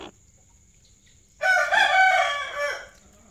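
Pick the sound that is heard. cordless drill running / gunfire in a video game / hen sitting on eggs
hen sitting on eggs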